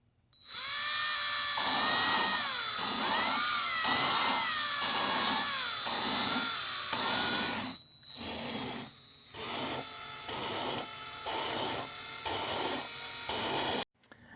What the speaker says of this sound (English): So I'm just going to do this lapping